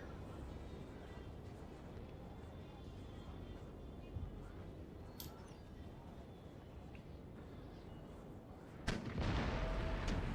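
Distant cannon fire in the Napoleonic-era strategy game Empire: Total War, with muffled booms over a dense, continuous battle rumble and a sharper blast near the end.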